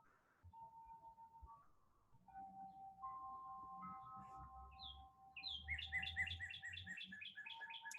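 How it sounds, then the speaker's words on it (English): A bird sings quietly, with a quick run of high repeated chirps in the second half, after steady soft chime-like tones at the start. "The bird that's singing, and the chime"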